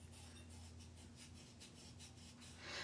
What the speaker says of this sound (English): I'm just going to rub it. Kind of rub that glitter into the tape